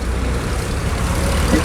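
Tractors without number plates driving along a road, a loud, steady, close engine rumble filling the whole stretch with no speech.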